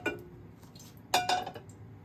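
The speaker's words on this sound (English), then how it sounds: "I'm going to take another pan" A cooking pan taken and set down in a home kitchen while making bitter gourd pickle, heard as two metallic clinks and clatters, the second louder, with no talk.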